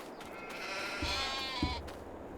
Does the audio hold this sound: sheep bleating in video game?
yes